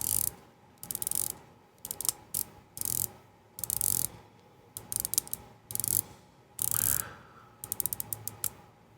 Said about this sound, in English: You can kind of hear that click in, just that little whack of a click every third.